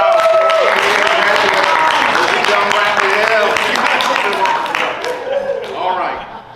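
An audience at a King Commission legacy discussion applauds a speaker, steady clapping under a talking voice that fades toward the end.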